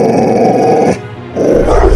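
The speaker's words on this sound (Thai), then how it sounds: "ซึ่งเป็นสุนัขสีดำตัวใหญ่ ดวงตาของมันแดงกำำราวกับเปลวเพลิง เดินออกมายืนแยกเขี้ยวอยู่ต่อหน้าหลวงตา" A big black dog growls low and steadily as a storytelling sound effect, the rumble running loud and continuous with a brief dip midway before swelling again.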